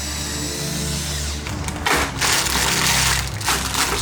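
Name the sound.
drilling out a rivet on a Ram 1500 radiator support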